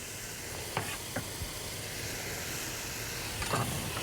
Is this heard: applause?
no